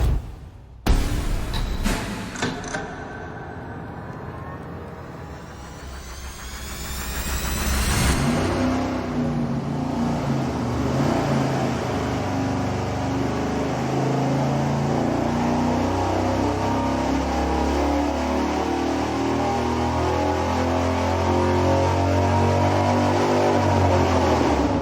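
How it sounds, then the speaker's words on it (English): Wedge head V8 engine on a dyno cranks and fires, then climbs through a long sweeping rev and holds a loud, sustained roar under load, close and unbroken for over twenty seconds. "we'll find out as soon as you fire up this engine"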